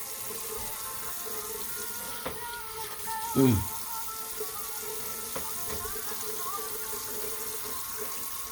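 A bathroom tap runs steadily while a toothbrush is wetted, a close, continuous hiss of water with a few small knocks and clatters around it.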